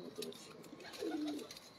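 Pigeons at a rooftop loft give a single soft, low coo, faint and brief against light background noise.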